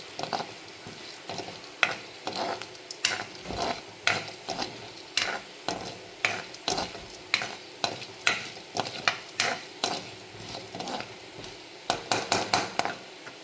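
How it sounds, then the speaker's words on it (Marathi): Chana dal roasting in oil in a pan for a stuffed brinjal dish, stirred with a utensil that scrapes and clinks in a steady repeated rhythm over a faint sizzle, close up with no talking. "आता यामध्येच मी हरभरा डाळ टाकली आहे, यालाही चांगलं रोस्ट करून घेऊ"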